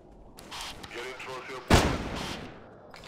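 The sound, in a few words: gunshot hunting dinosaur in video game Carnivores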